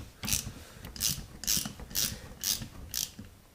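A ratchet tightens a brake pad pin on a Suzuki DRZ400 front brake, six sharp clicking bursts in a steady rhythm, close and crisp with no talk.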